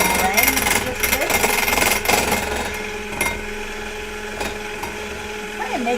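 An electric mixer whips egg yolks for a soufflé omelette, a steady loud buzzing whir with rattling against the bowl throughout.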